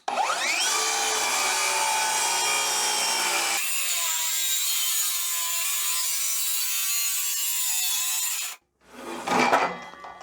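A hand saw cuts a piece of wood along a long guide, a dense continuous rasping close up that shifts in tone partway through and stops abruptly near the end, followed by a short burst of rustling.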